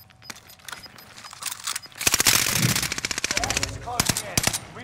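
Automatic weapon fire in Call of Duty: Modern Warfare crackles in rapid bursts, swelling into a loud sustained volley midway, with lighter clicks and faint background voices.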